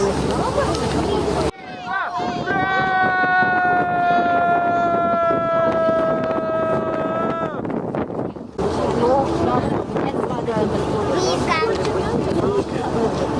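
A boat ride on the water: steady engine and wind roar aboard the boat, with people talking over it and a sustained rising tone in the middle.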